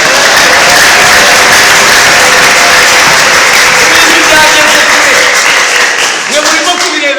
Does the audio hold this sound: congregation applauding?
yes